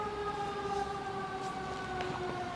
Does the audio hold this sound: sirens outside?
yes